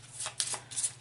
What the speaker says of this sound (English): the blue player is going to take their 4 starting cards and now shuffle in these realm cards.